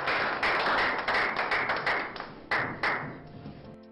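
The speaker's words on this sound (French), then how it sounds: "Vos applaudissements, s'il vous plaît" Audience applause at a ceremony, a burst of scattered hand claps with sharp individual taps that thin out and fade toward the end, heard alone without talk.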